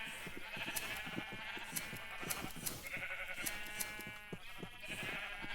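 Many sheep bleat repeatedly in Ancient Kingdoms, a modded block-building game, overlapping calls from a crowded flock with short rhythmic clicks and taps beneath, loud and continuous with no talk.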